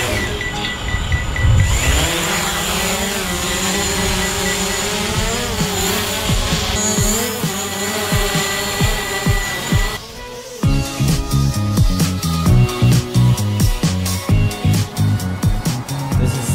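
A drone lifts off and flies, its motors rising into a loud, steady whine that holds, then gives way to rhythmic music-like pulses later on, with no talking heard.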